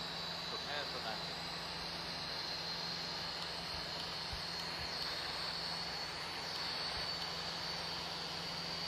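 Boeing 737 MAX engines in Air India Express livery hum steadily on landing approach into Mumbai in Real Flight Simulator, a continuous broadband drone with a whine above it, running unbroken throughout.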